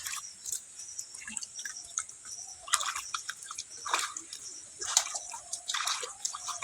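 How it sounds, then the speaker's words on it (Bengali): Pumpkin leaves being washed in water: irregular splashes, drips and wet rustling bursts, close by and fairly quiet, with no talk. "এই দেখুন, আমি পাতাগুলো ধুয়ে নিচ্ছি পরিষ্কার করে।"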